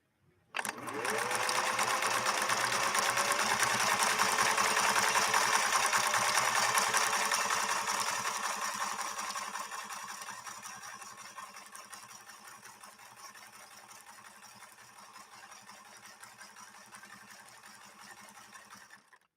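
A Viking 21E sewing machine runs a tight zigzag stitch at fine stitch length, starting abruptly with a loud, fast mechanical whir that holds steady, then gradually slows and fades over the last several seconds.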